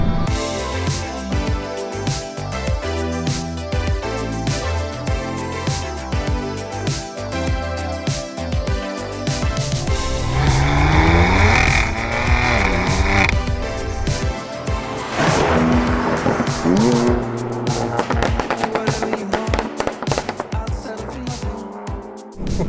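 A 580-horsepower BMW M3 with a loud exhaust slides with squealing tires, its engine roaring and revving continuously close up, with a sustained high screech rising in the middle of the long run.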